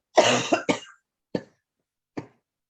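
A person coughs several times: a burst of rapid coughs up front, then two single coughs spaced apart, close and fairly loud.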